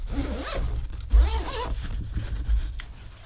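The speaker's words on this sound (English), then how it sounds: "Let's unzip it." A zipper on a KiwiCo Panda Crate pouch being unzipped, close and loud, in two or three long drawn pulls with brief pauses between.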